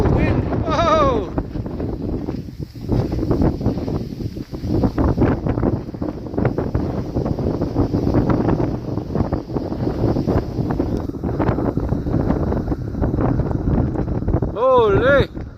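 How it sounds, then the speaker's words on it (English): A steady, loud buffeting wind roar fills the mic while a vehicle drives along a highway, with brief voiced exclamations rising over it at the start and end. "Wind!"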